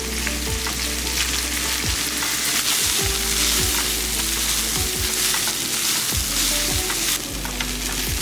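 Cooked rice frying in ghee in a pan, a dense close sizzle with repeated spatula scrapes and clinks against the vessel in a steady stirring rhythm, no voices.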